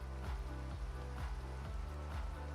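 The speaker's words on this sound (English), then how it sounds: "I didn't realize the rain was biome affected" Rain falling in a river biome in the Terrafirmagreg video game, a steady soft patter that stays constant throughout at a moderate, distant level, with a low repeating thud running underneath.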